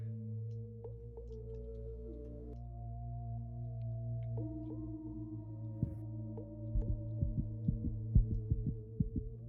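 A heartbeat warning thumps in the video game The Void, signalling the player is dying: low pulsing beats that start slow and grow faster and stronger, over a sustained droning ambient hum.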